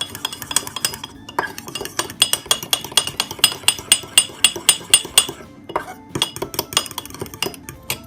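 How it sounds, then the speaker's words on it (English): A whisk beats a cocoa powder mixture in a mug, giving a fast, steady series of bright metallic clinks and taps against the sides, close and loud, with a short pause before the clinking resumes. "And I'm just going to whisk that again."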